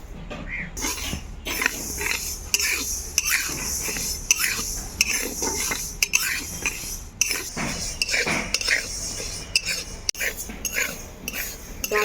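Moong dal being dry-roasted in a kadai on a lit stove, stirred with a metal spatula that gives steady, rhythmic scraping and clinking strokes up close with a faint sizzle underneath.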